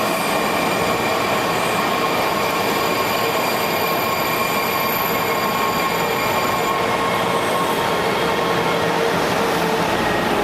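A train runs steadily on its rails for the whole stretch, a continuous broadband rumble with a faint high squeal from the wheels, close and loud, and no one speaking.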